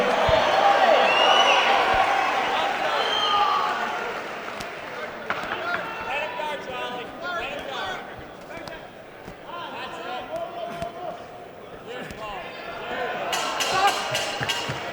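A boxing crowd at an amateur gym fight-card event makes loud, sustained noise, with shouting and cheering rising and falling throughout, bursts of clapping, and an announcer's voice over the din.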